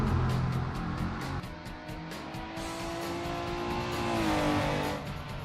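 A Porsche 911 993 Carrera engine in the Assetto Corsa racing game revs and drones steadily, with a rising and falling engine tone, ticking gear changes and some tyre noise, loud throughout and with no talking.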